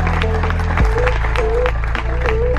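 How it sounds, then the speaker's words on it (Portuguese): A crowd claps steadily, dense and sustained applause filling the whole short stretch with no pause. "Eu queria pedir uma salva de palmas ao Fromel e ao Egídio."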